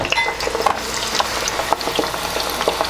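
Fries frying in hot oil on a stove give a dense, continuous crackling sizzle, close and fairly loud, with scattered sharper pops and no voices.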